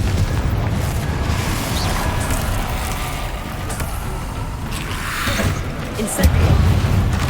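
The Confringo explosive spell being cast in Hogwarts Legacy sets off a steady roar of deep booms and blasts, with a sharper burst near the end. Voices call out over the din.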